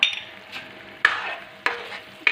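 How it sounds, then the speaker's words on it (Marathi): Cardamom powder and orange food colour stirred into hot sugar syrup in a pan over a lit gas flame, with a spoon scraping and clinking at a steady pace above a faint background sizzle. "गॅस चालू असतानाच आपल्याला हे मिक्स करून घ्यायचं"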